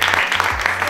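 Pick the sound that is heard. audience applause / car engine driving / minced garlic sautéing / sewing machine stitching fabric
audience applause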